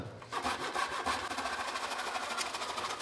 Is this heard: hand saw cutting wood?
yes